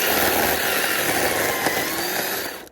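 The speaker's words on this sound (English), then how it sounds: "These electric saws can rip, man" An electric chainsaw cuts through a tree branch with a loud, continuous buzzing whine, close and steady, easing off at the very end.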